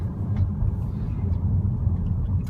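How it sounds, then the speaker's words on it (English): A 2015 Audi Q3 Prestige 2.0T Quattro engine accelerating in first gear, a steady low grainy drone heard from inside the car, with no talk. "First take off in first gear, the engine sounds kind of grainy."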